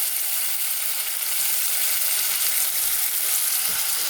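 Onions frying in hot oil with cumin seeds for a goruchikkudukaya (cluster bean) curry: a steady, dense sizzle that holds loud and even throughout, with a few soft stirring scrapes and no talking.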